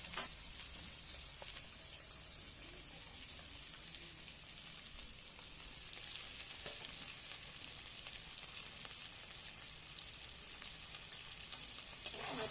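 Potatoes frying in hot oil in a home kitchen while making a gondhoraj egg curry, giving a steady, even sizzle that runs throughout with a few small pops, moderately quiet and with no talking.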